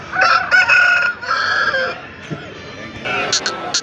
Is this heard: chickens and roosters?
yes